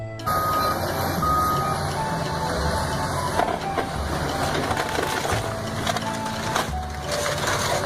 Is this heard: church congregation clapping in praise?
no